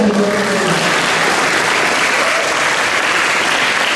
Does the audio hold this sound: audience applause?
yes